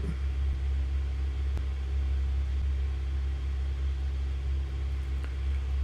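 A Diamond DA40 light aircraft engine running after the throttle is advanced, heard from the cockpit as a steady, loud, droning hum with constant tonal layers and no voices.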